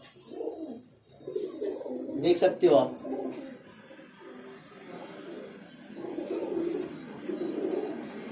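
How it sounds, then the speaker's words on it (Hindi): Breeding highflyer pigeons in a loft coo in low rolling bursts close by, with someone speaking briefly over the sounds. "ये दोनों ब्रीडिंग कबूतर है"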